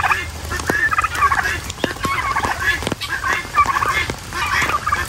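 Free-range poultry and guinea fowl call outdoors in a continuous, busy chorus of gobbling and squawking, fairly close and loud, with overlapping bursts running throughout.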